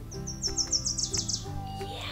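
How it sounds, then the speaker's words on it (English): Birds chirping outdoors in early spring: a quick series of bright, high tweets in a rapid run, close and clear over a faint background tone. "Do you hear the birds?"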